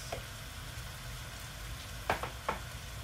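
Mussels stirred in a hot pan give a steady, low sizzle throughout, with two sharp scraping stir strokes close together near the end.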